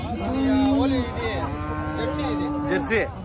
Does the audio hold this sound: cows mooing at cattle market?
yes